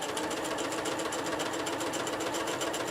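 A sewing machine runs steadily, stitching the edge of an appliqué letter onto a fabric table runner with the letter guided along the presser foot groove; a close, continuous rapid whir with no pauses or talk.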